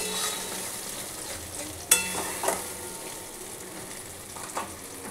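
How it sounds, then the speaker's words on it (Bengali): Poppy seed paste tipped into hot oil in a pan sets off a steady, close sizzle, with a couple of brief clatters from the spoon stirring it. "এই পোস্ত পেশাটাও এতে ঢেলে দিলাম।"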